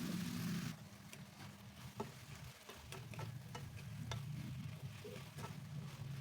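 Stir-fry being stirred in a pan until the liquid has cooked off, a soft steady sizzle with scattered light scraping ticks of the utensil against the pan, close by and without talk.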